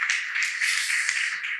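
An audience at a Christian book talk claps together, making a soft, even wash of applause that lasts a second or two with no voices over it.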